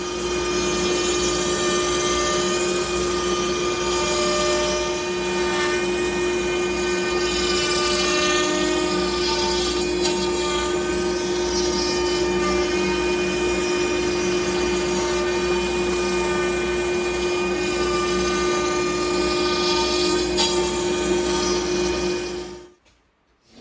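Shapeoko CNC router cutting a workpiece, a loud steady whine with a strong sustained tone and grinding texture that runs throughout and then stops abruptly at the end.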